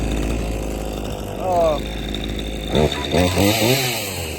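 A Craftsman 14-inch chainsaw runs with a loud low engine drone, revving up and down in surges, while people talk over it at times.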